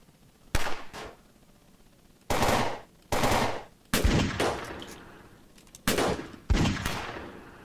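Gunfire in the video game Fort Zombie: loud bursts of automatic fire, about six separate volleys in quick succession, each sharp onset trailing off, with no talk over them.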